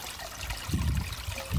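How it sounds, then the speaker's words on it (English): Water trickling from a garden pond fountain, a soft, close, continuous splashing and dribbling over a short stretch, with no talking. "Even the water coming out of the fountain just seems cleaner."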